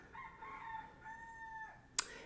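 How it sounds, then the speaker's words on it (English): A rooster crows once in a long, drawn-out call, faint and distant in a quiet morning setting, followed by a sharp short click near the end. "If you can hear the rooster."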